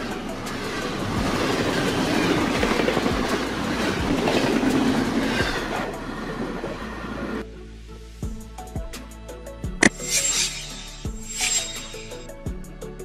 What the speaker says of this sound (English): This is a train used to transport packaged goods in containers on railways.